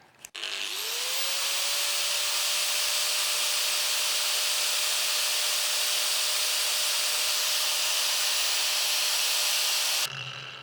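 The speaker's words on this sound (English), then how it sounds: "this grinder, when you turn it on, is just going to go, like it's just going to grind" An electric grinder spins up with a rising whine, then runs at a steady loud hum with a constant tone for about nine seconds before cutting off abruptly, close and alone.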